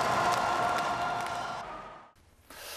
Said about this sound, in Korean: 주경기장을 가득 메운 6만여 명의 관중들도 떠나갈 듯한 함성과 박수로 이들을 맞았습니다